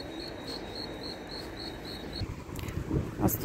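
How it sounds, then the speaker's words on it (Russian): An accessible pedestrian crossing signal for the blind ticks out a regular cricket-like chirp, about two pulses a second, over street ambience, then stops as traffic and footsteps take over. "Тут у нас слепые, поэтому такой звук, как сверчки."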